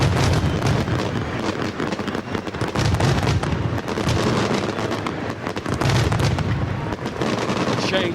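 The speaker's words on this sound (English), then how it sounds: "And the fireworks go off as well." Fireworks bursting at a rugby stadium as the England Saxons take the pitch against Italy A in 2007, dense crackling pops in rapid succession over a constant crowd roar.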